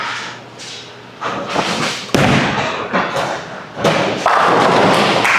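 A bowling ball rolls down the lane and crashes into the pins, a heavy thud followed by scattering clatter and sustained noisy rumble, moderately loud with no voices.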